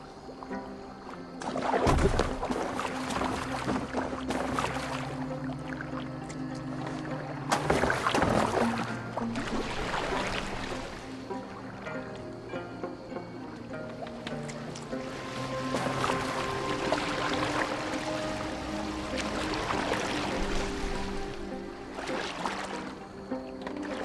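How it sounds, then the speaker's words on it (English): A boat moving through water in the video game Assassin's Creed Valhalla, with steady splashing and lapping water, oar-like swishes and occasional louder surges over a low ambient game music bed, no speech. "Are you well enough to steer this boat?"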